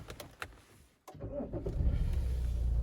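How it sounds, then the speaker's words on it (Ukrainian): A 2015 Opel Insignia with the 2.0 CDTI diesel engine: a few sharp clicks come first, then a brief pause, then the engine cranks and catches into a rising, rumbling idle that stays close and steady. "Можна автомобіль заводити."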